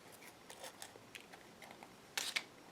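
Scissors trim excess paper from a craft page in a quiet room, giving a series of soft, crisp snips and ticks spaced irregularly, ending in two sharper, louder cuts.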